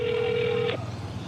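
A telephone call placed to a locked, permanently closed cram school in Kaohsiung rings unanswered: a single steady electronic ring tone holds for most of a second, then cuts off, leaving a faint hum.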